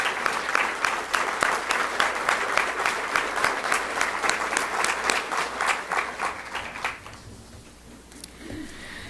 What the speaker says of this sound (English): let's give them a round of applause for all the hard work that they do for our community